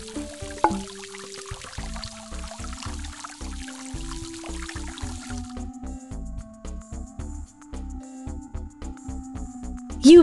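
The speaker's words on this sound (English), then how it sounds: "Now, how will you get the water into the bowl?" Water pours into a dog's bowl in a kids' science app game, a steady bubbly trickle with dripping under cheerful game music, ending in a brief splash.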